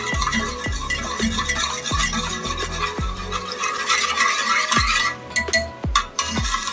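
A spoon stirs and clinks against a pot, dissolving sugar and salt for khaman batter, in repeated, steady strokes, close by, with sharp scraping taps every second or so and no talking.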